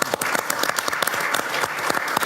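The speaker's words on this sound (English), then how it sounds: "Round of applause." Steady applause from an audience at a talk on farming, dense clapping at moderate volume with no voices over it.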